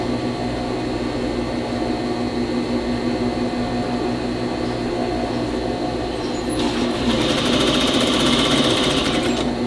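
A sewing machine stitching a seam in jeans with a wide stitch, a loud, steady motor whir and needle hum running throughout, rising in pitch and intensity near the end, close by and without speech.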